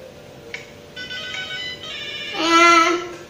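Electronic telephone ringtone in the video game Robbery Bob, a steady tonal ring that swells louder toward the end over a low background hum.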